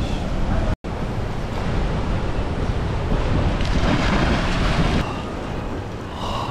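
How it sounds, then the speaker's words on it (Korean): Strong wind blowing outdoors on the seaside island of Nusa Lembongan, near Bali, with surf mixed in. The roar is loud and constant, with microphone buffeting and one brief dropout near the start. "밖에는 바람이 많이 불어가지고 춥습니다"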